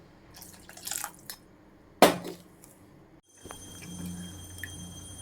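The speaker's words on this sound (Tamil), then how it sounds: "புளி கரைசல் கரைச்சி ஊற்றிக்கலாம்" Tamarind extract is poured into simmering kuzhambu in a home kitchen. A sharp liquid splash and drips are followed by a steady, soft bubbling simmer close by.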